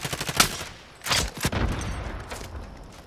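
Rapid bursts of automatic gunfire in the online shooter game Warzone, several sharp volleys in quick succession with a pause between, loud and close.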